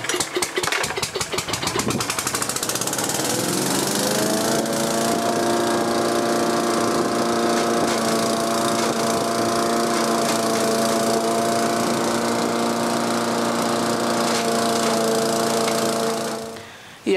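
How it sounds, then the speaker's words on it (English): Shredding machine grinding chopped coconut husk into fine potting media, starting with rapid clattering bursts, then settling into a loud, steady engine-driven drone with a humming tone before cutting off at the end. "We put it in and then start the machine, go on rolling it, and then shred the coconut husk into fine potting"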